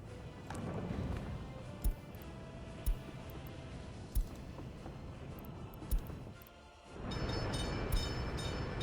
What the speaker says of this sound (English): Man, I like these trains.